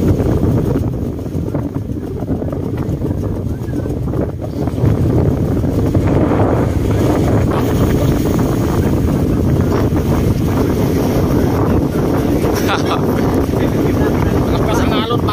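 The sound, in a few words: strong waves and wind at sea on fishing boat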